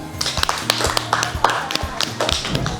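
A group of schoolchildren claps unevenly in scattered, loose bursts, with some voices mixed in underneath.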